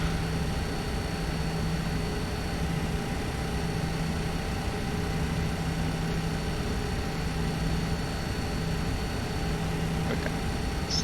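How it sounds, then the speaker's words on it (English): Simulated jet engine noise from an Embraer E170 in X-Plane 11 runs as a steady, fairly quiet broadband whine and hum, with a faint repeating low pulse throughout. "Engine 1 is stable now"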